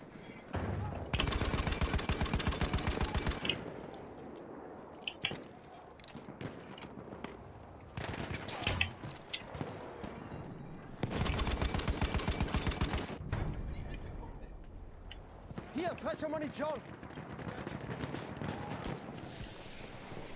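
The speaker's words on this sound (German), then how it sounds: "Kannst aufhören, kannst aufhören zu schießen." Battlefield gunfire during a conquest match in Amiens, with dense bursts of machine-gun and rifle fire in loud stretches that alternate with quieter lulls full of scattered shots and footsteps. A voice talks over parts of it.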